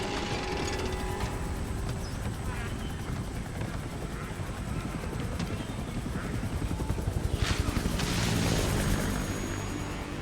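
Helicopter lifting off in the video game Resident Evil Requiem, a steady loud rotor roar throughout with a brief surge of chopping near the end, French voices speaking over it.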